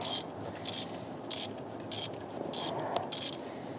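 Ratchet wrench threading a bolt into a Chevrolet Silverado 5.3L L83 engine, with short bursts of rapid clicking repeated about six times in a steady rhythm, close and clear in a quiet garage.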